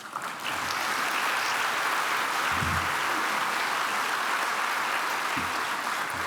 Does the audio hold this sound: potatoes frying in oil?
no